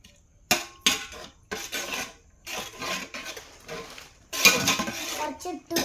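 A utensil stirs food in a metal pot, giving uneven scraping and clinking strokes that come in bursts with short pauses, close and moderately loud.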